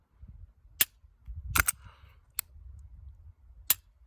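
A Glock 43X pistol trigger dry-fires in a few sharp, close clicks, singly and in a quick pair, with faint mechanical rattling between them.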